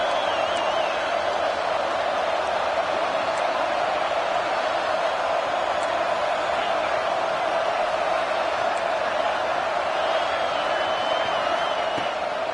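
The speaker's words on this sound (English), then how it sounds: "The crowd electric trying to help Tech on this 3rd down." A college football stadium crowd roars steadily for Texas Tech on third down against Alabama, a dense, continuous wall of far-off cheering and noise with occasional whistle-like tones over it.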